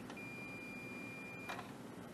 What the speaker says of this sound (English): We can put our meter on continuity, make sure it beeps